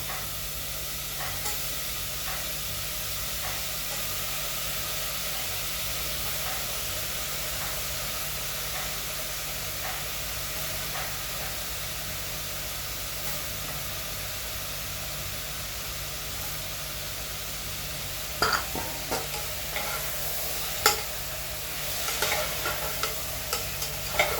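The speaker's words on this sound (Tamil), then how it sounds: "சுரக்காய் போடுறோம்பா" Chopped bottle gourd stirred in a hot pan, a steady sizzling frying hiss throughout with soft scraping stirs, sharper clacks of the spoon against the pan near the end.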